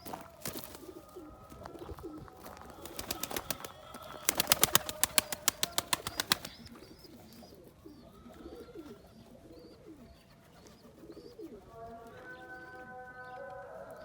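Pigeons flying from a coop loft burst into bouts of rapid wing clapping and flapping, loud and close, in several rhythmic flurries, followed by softer cooing and shuffling.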